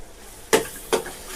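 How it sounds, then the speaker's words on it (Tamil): Green chillies are sautéed in a pan while cooking prawn biryani: two brief, close scraping stirs, with faint sizzling in between. "கொஞ்சம் நல்லா வதக்கிக்குவோம்"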